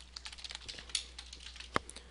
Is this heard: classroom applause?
no